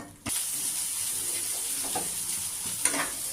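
Spice paste with chopped tomatoes fries in a pan, a steady close sizzle and hiss starting abruptly and holding throughout, with a few brief stirring scrapes near the end.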